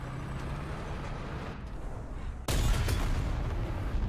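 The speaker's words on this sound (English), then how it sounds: "I hear so many bombs going off" Explosions rumble through a tank battle video game, a steady roar of distant blasts that jumps to a louder, closer burst about midway and stays heavy to the end.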